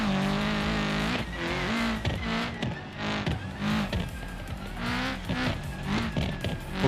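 Cars in the BeamNG Drive driving game skid with repeated tire squeals over revving engines, the rising and falling whines recurring in quick bursts, loud and close, alone without talk.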